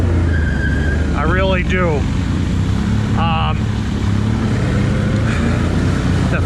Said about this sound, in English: The 570 motor that Can-Am makes is a twin 570.